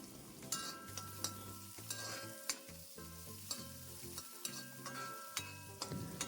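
Chopped onions fry in a pan for dhaba-style dal, a dense sizzle broken by frequent rhythmic scrapes and clinks of a spoon stirring against the metal, close and fairly loud.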